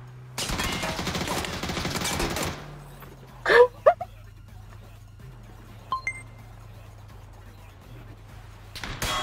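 Several sharp, loud cracks of game gunfire in short bursts, with a burst of noisy action before them and a low steady hum underneath.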